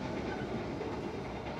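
Steady rumble and rattle of an Indonesian passenger train, the Bima, rolling along rails near Jakarta, heard from inside a carriage, continuous with no voices.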